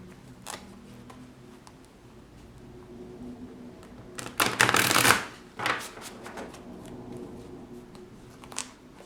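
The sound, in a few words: shuffling tarot cards to pull another card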